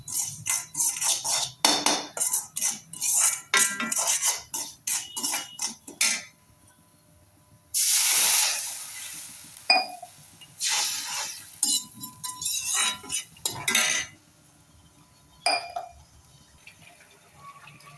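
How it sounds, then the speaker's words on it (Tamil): Semolina roasting in ghee in a metal pan for jaggery kesari: a spoon repeatedly scrapes and clinks against the pan in irregular bursts, with a longer gritty rush partway through and quiet pauses between stirs. "ரவாவை போட்டு அந்த நெய்லேயே நல்லா வறுத்துக்கணும்"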